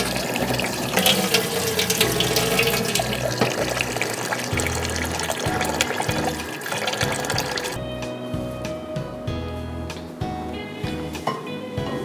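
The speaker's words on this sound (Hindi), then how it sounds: "वॉश कर लें 2-3 दफ़ा साफ पानी से और फिर इसको आप भिगो दीजिए।" Rice is washed under clean running tap water, a steady full gush of water splashing into a sink for the whole stretch, loud and close with no talking.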